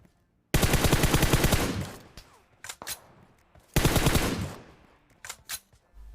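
Two long bursts of rapid automatic gunfire from the video game Free Fire, loud and close, each trailing off, followed by a few sharp single shots.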